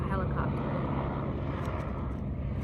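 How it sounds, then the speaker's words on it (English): An aircraft drones steadily overhead, a continuous low rumbling engine roar that stays loud and even throughout without changing much. "It's literally every video is a helicopter."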